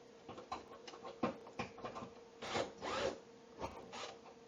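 Screws holding the glass top of a Whirlpool RCC3024 cooktop are turned out by hand, giving faint, close, irregular scraping and ratcheting clicks in short bursts.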